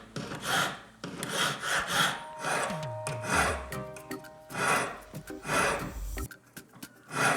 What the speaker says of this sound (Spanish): Con lima de grano medio nos vamos a aproximar con mucho cuidado a la línea que acabamos de marcar.